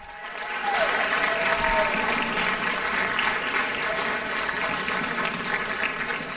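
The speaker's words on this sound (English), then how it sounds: "One more time, a nice round of applause for Gianna." A school open house crowd applauds for Gianna, dense sustained clapping that swells after a brief quiet start and holds steady, with faint voices mixed in underneath.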